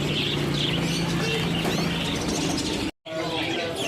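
Canaries at the Pramuka bird market chirp and tweet steadily amid a dense, noisy market bustle, with a brief drop to silence near the end.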